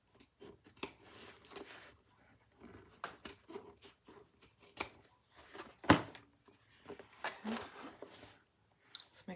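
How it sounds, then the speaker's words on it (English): Scissors cutting and trimming fabric for a crossbody bag, irregular crisp snips and rustles close by and fairly quiet, with pauses between cuts. "Took 3 pairs of scissors to do it."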